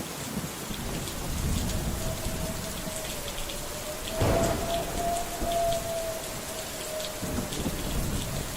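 Heavy, dense rain pours down during Typhoon Ragasa in China, a constant roar with a brief louder surge midway and a low rumble underneath.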